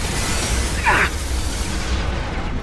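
A single sharp synthetic blast from a weapon in the video game Mass Effect 2, brief and punchy, over a constant low background rumble.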